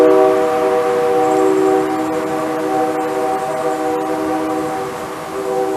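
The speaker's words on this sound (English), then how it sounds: "Train is coming." A train passing a railway bridge, a steady rumbling drone of rail cars with a sustained horn-like tone and scattered clanks, loud and fairly close with no talking.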